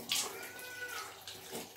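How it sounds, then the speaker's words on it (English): Running water splashes as a face is rinsed during a morning skincare routine, quiet, brief, uneven splashes and trickling over a soft hiss. "So rinsing properly with as much water as you can."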